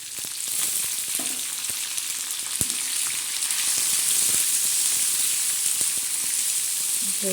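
Peanuts, onion and tomato frying on a tawa for tawa poha, a dense steady sizzle close up, broken by an occasional spatula knock and light stirring.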